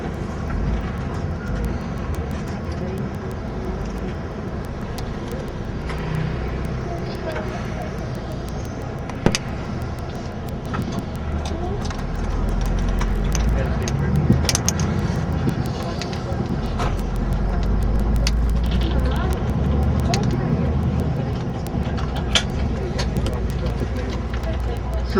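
A car drives up the Aventine Hill in Rome with a steady, moderate engine and road rumble from inside the vehicle. Traffic noise swells slightly midway and a few faint clicks and knocks sit underneath.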